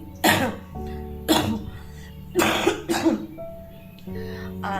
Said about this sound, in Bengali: বিভৎস পরিমাণে কাশি হয়েছে